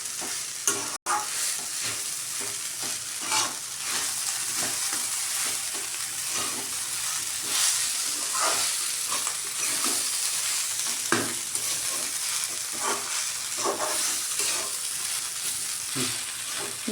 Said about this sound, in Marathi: ते 3 मिनिटं छान पोहे परतून घ्यायचे